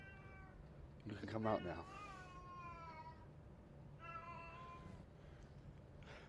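A house cat meows loudly in several drawn-out, wavering cries, close by and mixed with a person speaking.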